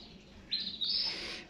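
Yellow canaries kept as cage birds chirp in a short bright burst of high, thin tweets and a trilling call, close by and moderately loud over a quiet room background, with no talking.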